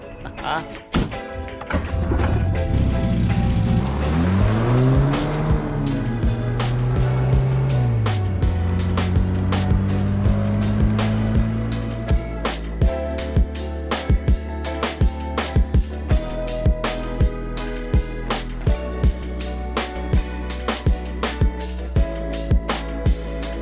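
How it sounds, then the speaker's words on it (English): A 1978 Triumph Spitfire drives on the road: its engine climbs in pitch through several revving sweeps, then settles into a steady, loud, close drone punctuated by repeated sharp knocks and thumps. "me and the Spitfire are gonna hit the road."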